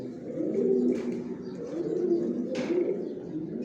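Pigeons cooing in a rooftop loft, repeated low throaty coos rolling in soft rhythmic phrases at close range, with a couple of brief rustling flutters between them.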